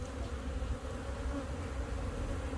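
Honey bees hum steadily in an open hive during a spring inspection, a dense, continuous close-up drone with no pauses.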